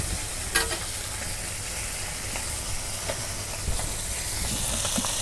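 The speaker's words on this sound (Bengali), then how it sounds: "মাছ ভাজা নিতেছি।" Small fresh river fish fry in fully heated oil, producing a steady, loud, close sizzle and hiss that runs unbroken throughout with occasional crackles.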